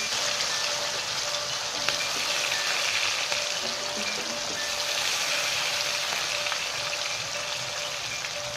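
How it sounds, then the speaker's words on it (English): Potato pieces marinated with salt and turmeric frying in refined oil, a continuous crackling sizzle like light rain, with faint tonal hum and a few soft ticks, no voices. "We will fry some potato pieces in refined oil."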